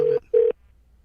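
Two short telephone tones sound one after the other, steady and fairly loud, each lasting a fraction of a second with a brief gap between them, then silence.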